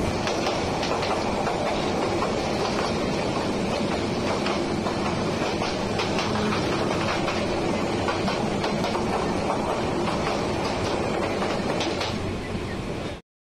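Kalni Express rolling on the Dhaka–Sylhet line, a steady loud interior rumble of the carriage with repeated rhythmic clatter from the wheels running over rail joints.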